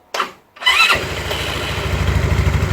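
A scooter's starter motor, freshly cleaned after failing to crank, gives a brief whirring crank, a short pause, then the engine catches and settles into a loud, close, steady idle.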